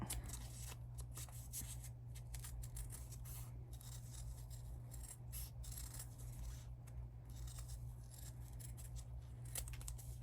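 Fabric is trimmed with scissors just inside a seam allowance on a sewing project, steady close snips and soft scraping crunches repeating throughout, quiet and alone without speech.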